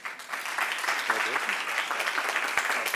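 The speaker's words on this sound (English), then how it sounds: "So, round of applause for Coach." Brief applause from an audience at a school board of education meeting honoring a lacrosse coach, a short, moderately faint patter of many hands clapping.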